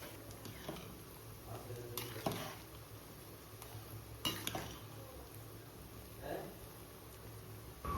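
Onion, garlic and ginger fry in a wok with a low sizzle, punctuated by several sharp clinks and scrapes of a spoon stirring against the metal, quiet and close.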